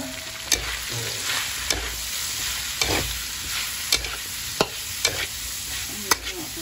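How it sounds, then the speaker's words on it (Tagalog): Onions sautéing for batchoy in a pan, a steady broadband sizzle with sharp utensil scrapes and taps recurring about once a second, close and moderately loud, no talking. "Okay, lalagay natin sibuyas ngayon."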